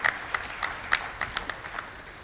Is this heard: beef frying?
no